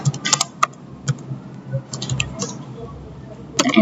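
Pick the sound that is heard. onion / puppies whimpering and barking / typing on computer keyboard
typing on computer keyboard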